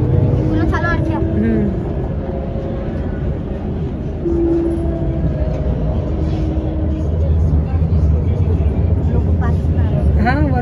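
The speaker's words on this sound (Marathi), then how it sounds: "ट्रॅफिक किती बाबा खाली." Busy road traffic rumbles below as a steady low roar of engines and passing vehicles, with occasional horn-like tones, under voices talking nearby.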